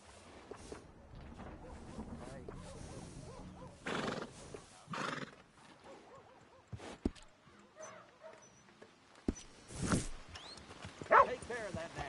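A horse in the Western video game Red Dead Redemption 2 whinnies and snorts among clopping hooves, with a dog barking and people talking in between at a low level.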